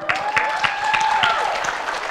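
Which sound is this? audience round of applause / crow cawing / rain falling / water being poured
audience round of applause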